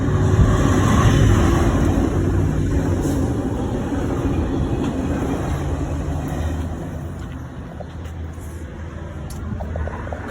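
A train rumbles past nearby a parking lot, a steady heavy roar that fades slightly partway through, with no talking.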